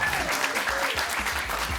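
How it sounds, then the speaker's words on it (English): An audience at a quiz bowl match applauds steadily, a dense, close burst of clapping that fills the whole moment. "I didn't mean to stamp on your applause."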